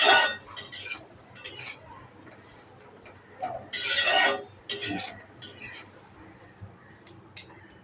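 A spoon or spatula stirs okra coated in spice paste in a home kitchen pan, giving scattered scraping and clinking strokes in irregular bursts, close and fairly sharp, with quiet stretches between them.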